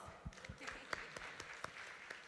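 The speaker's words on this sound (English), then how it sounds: "let's give everyone a round of applause" A candidates forum audience claps briefly at close of a session, a quiet scattered patter of individual hand claps with a few sharper near claps, no voices over it.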